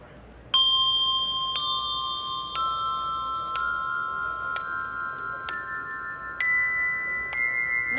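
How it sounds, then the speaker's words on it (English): Handbells struck at the waist ring out one after another in a rising scale, eight clear, sustained metallic tones at an even pace, each note overlapping the last as it decays, close and resonant. "we can get a little taste of these bells"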